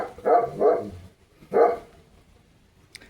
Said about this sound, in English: I apologize for Sherlock barking